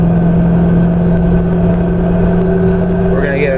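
An LS3 V8 in a 2015 Jeep Wrangler JK Unlimited with a 6L80 transmission and 40-inch tires drones steadily inside the cabin as it accelerates gently uphill on a freeway. The engine note stays loud and constant throughout.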